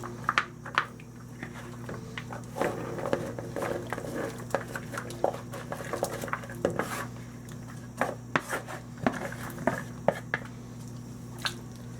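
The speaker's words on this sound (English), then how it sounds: "you're going to want to slowly add all your vegetables" Chopped potatoes, carrots, celery, onion and jalapenos dropped into broth in a cast iron pot, with soft splashes, wet thuds and scattered clinks of utensils against the pot at an irregular pace, close and moderately quiet.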